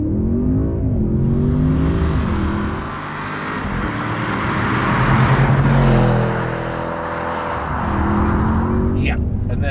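A new Audi S8's engine revs hard and accelerates from a launch, its pitch climbing through gears with brief dips at shifts, loud and close inside the cabin.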